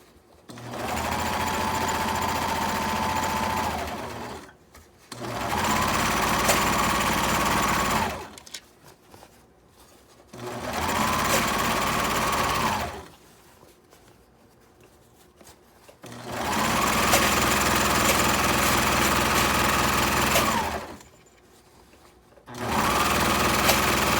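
A sewing machine stitching a washable fabric shoe cover runs in five long bursts of fast, even whirring, each separated by a brief pause.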